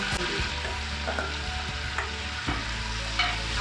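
Sliced leeks fry and soften in a hot pan for a saag aloo, giving a steady close sizzle with a few sharp clatters as they are stirred, and no voices.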